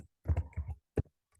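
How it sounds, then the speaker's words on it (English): Someone types a formula into an Excel spreadsheet on a computer keyboard: a short burst of close, crisp keystrokes, a brief gap, then one more tap, with no speech. "enter the formula in the cell by writing equal to"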